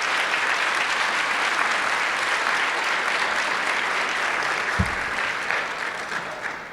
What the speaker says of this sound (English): would you stand or wave your hand so we can give you a round of applause?